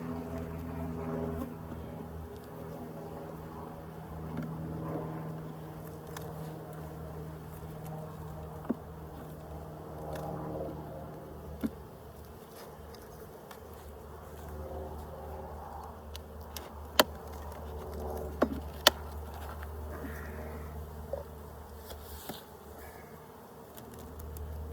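Honey bees buzz steadily around an opened beehive in a Colorado backyard apiary, a dense, continuous drone with individual bees passing close, punctuated by a few sharp ticks and clicks.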